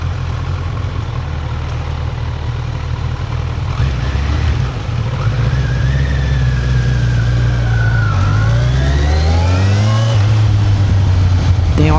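A Kawasaki Ninja 1100SX motorcycle runs with a steady low engine drone that rises in pitch as it accelerates toward the end, loud and close throughout.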